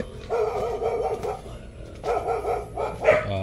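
A tied-up dog barks repeatedly nearby in short rapid bursts, with a brief pause before another run of barking.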